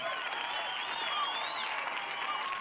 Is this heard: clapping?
yes